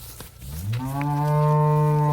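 An HF dairy cow at a cattle sale in Karnataka gives one long, loud, close moo that rises and holds steady, with no talk over it.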